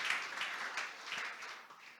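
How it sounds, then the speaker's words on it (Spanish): A church congregation applauds in a brief burst of steady clapping, moderately loud and fading slightly toward the end, with no speech over it. "Fuerte ese aplauso al Señor."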